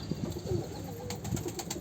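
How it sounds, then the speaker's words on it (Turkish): Pigeons coo in a few soft, low bursts close by in a village, with faint rustling and other birds chirping in the background. "Adamda her çeşit kuş var yani."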